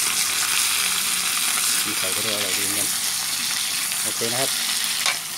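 Fermented fish (pla som) frying in a pan with a dense, steady crackling sizzle that runs throughout, while someone speaks briefly over it.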